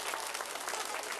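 Audience at a live show claps in a dense, even patter of many hands, sustained and fairly close, with no voices over it.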